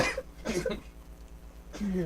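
A few short coughs close to the microphone, spaced apart, with a brief quiet gap between them.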